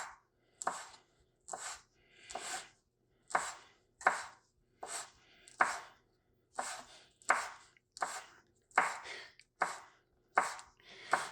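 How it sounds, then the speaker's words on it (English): A kitchen knife chops rolled-up leaves into small pieces on a cutting board, heard as crisp, steady strokes in quick pairs and short bursts that repeat evenly throughout, close and alone with no talking. "And then again, you're just going to use your knife, cut them up into smaller pieces."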